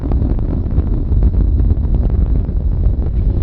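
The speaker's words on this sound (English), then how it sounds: "engines beginning to rev up" Space Shuttle Discovery's engines roar during launch about a minute into the flight, a steady, dense low rumble with wind-like buffeting and no voices.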